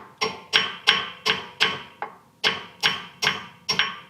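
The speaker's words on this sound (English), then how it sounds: "use a non-rubber hammer" A non-rubber hammer taps metal brake parts on a 9th-generation Honda Accord ten times in a steady rhythm, sharp ringing strikes close by, with one lighter tap partway through.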